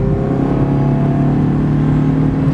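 2009 Chrysler PT Cruiser Wagon engine under acceleration, heard from inside the cabin as a loud, steady, buzzy drone with a thick low rumble and layered humming harmonics.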